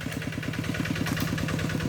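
A Kubota RT90 walking tractor ploughing a rice field in Sakon Nakhon chugs along with a fast, even single-cylinder thump, close and steady with a metallic clatter riding on top.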